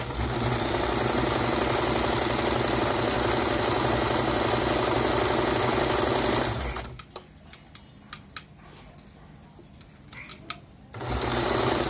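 A sewing machine stitches a zip onto a cushion with a loud rapid mechanical chatter. It stops for a few seconds of small clicks and handling noises, then starts running again.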